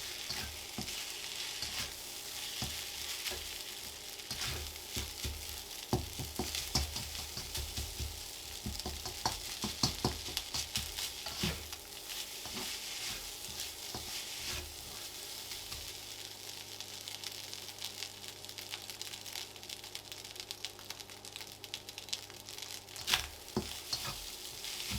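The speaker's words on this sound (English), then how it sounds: "Get the egg stirred in, toss it around. The wok needs to be really hot for this." Egg stir-fried and tossed in a very hot wok for special fried rice, a steady loud sizzle with scraping and clattering stirs throughout, no talking.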